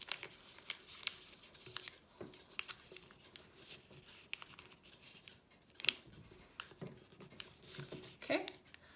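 Sheets of paper being creased and folded by hand into an origami crane, with soft crinkles, brushes and short crisp snaps scattered irregularly at close range, fairly quiet throughout.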